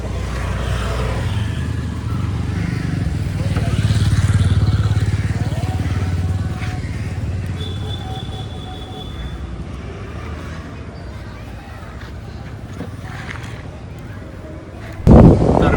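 A freshly washed car pulls away, its engine humming and rumbling steadily with road and wind noise, and a sudden loud knock near the end.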